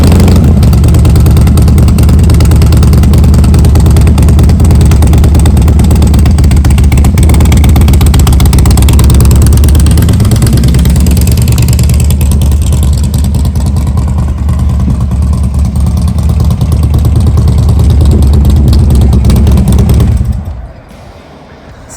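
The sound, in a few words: Harley-Davidson 98 inch Twin Cam engine running with choppy idle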